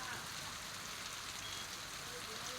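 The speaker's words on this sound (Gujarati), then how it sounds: "બનાસકાંઠામાં સતત બીજા દિવસે પણ વરસાદી માહોલ છે" Steady monsoon rain hisses evenly throughout over rural Banaskantha, Gujarat, a dense wash of heavy falling drops with no breaks.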